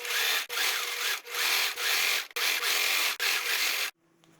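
Sewing machine stitching a seam right against zipper teeth, running in five short bursts with brief pauses between them, close and fairly loud, then stopping.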